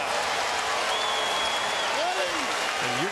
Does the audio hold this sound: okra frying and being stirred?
no